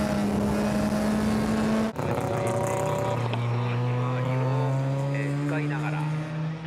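A Mazda Chantez kei car fitted with a 13B rotary engine, the RE Amemiya Super Chantez, on a time-attack run, roars loudly close up. Its pitch climbs, cuts at a gear change after about two seconds, then rises again through a long gear.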